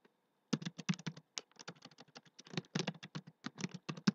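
Keys clatter on a computer keyboard while a formula is typed into an Excel spreadsheet, a quick irregular run of close, crisp clicks with short pauses between bursts and no talking.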